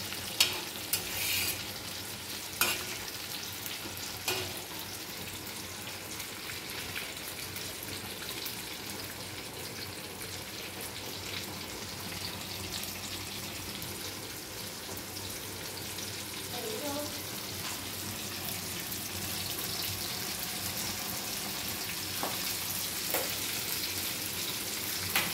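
Fish fry on an iron tawa with a continuous, fairly loud sizzle and spatter that holds steady throughout, broken by a few sharp taps and scrapes of a turning utensil.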